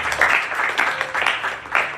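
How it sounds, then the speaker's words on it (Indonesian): Congregation applause for God during a sermon, a brief burst of clapping from a crowd, uneven and moderately loud, with no speech over it. "Tepuk tangan untuk Tuhan"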